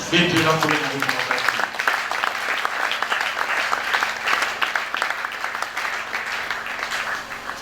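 A church congregation at a Sunday service breaks into sustained applause, dense clapping mixed with cheers and voices that fills the room and carries on evenly throughout.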